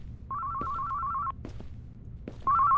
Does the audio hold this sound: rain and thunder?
no